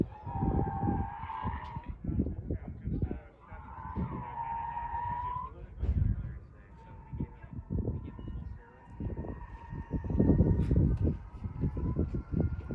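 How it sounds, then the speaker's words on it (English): Whining differentials of an all-wheel-drive test car with quick-change gearboxes, a steady mechanical whine rising and falling in pitch over a loud, rumbling drive noise, repeating in several surges. "So that's the noise you're hearing. It's actually the diffs whining."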